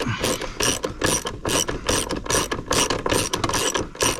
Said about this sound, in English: Now put your spanner on it, now you've got it moving.